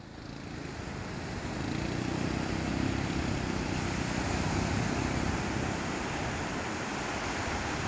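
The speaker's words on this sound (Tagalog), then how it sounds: "Ayun pa, alon." Sea waves at a fishing spot, a broad continuous roar of surf that swells and stays steady, heard alone without talk.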